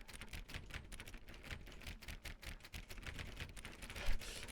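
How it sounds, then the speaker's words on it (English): Rapid clicking of buttons while playing The Stanley Parable, a dense run of quick, fairly quiet taps with no talking. "I was busy clicking buttons."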